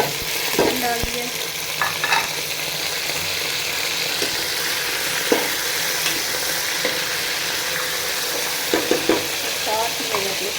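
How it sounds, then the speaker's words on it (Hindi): Chicken frying with onions in a pot, a low continuous sizzle with occasional scrapes and clinks of a stirring spoon against the metal. "ये मैंने इसमें सारा चिकन डाल दिया।"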